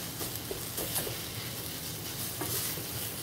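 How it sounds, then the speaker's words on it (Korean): Seaweed sizzles in hot oil in a pan while being stirred, with soft scraping and tapping of a utensil now and then; quiet and continuous. "미역도 꼼꼼하게 볶아주셔야 됩니다"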